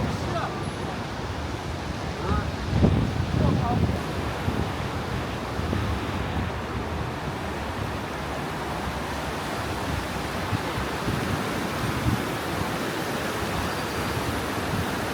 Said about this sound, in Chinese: 这个河水湍急